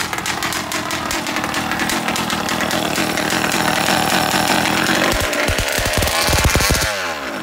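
A 50cc engine on an RC dragster with a drag pipe runs loud and raspy at close range, then sputters and falters near the end as it leans out on low fuel.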